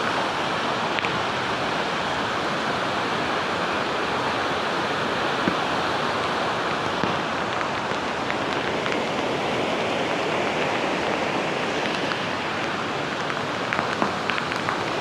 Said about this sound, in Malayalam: വെള്ളം കുത്തി ഒഴിച്ച് ഒഴുകി വരുന്നത്